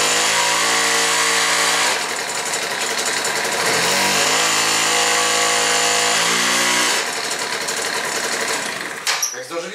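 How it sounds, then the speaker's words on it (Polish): A 50cc two-stroke Ferro scooter engine idles with a buzzy drone, then revs up and down twice in rising and falling sweeps, loud and close, before cutting off. "ten silnik bardzo nisko startuje"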